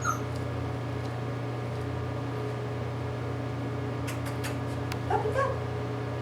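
A yellow-collared female puppy whimpers faintly a few times, with short high whines drifting in and out over a steady household hum, alone without talk.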